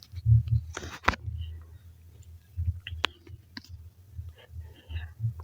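Computer mouse clicks while working in the CapCut video editor, a few short sharp clicks spaced apart in a quiet room, with faint handling noise between them.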